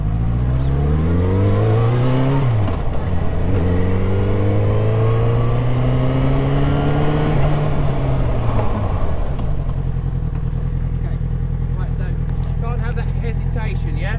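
Motorcycle on a riding-test track revs up through rising engine pitch, holds a steady high drone, then rolls off as it slows for a braking stop; loud and close, with wind rumble and talk over it.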